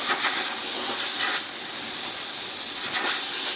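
An Astro Onyx 3-inch pneumatic disc sander works on a 1966 Mustang's body, a loud, continuous airy hiss with slight surges and no talk.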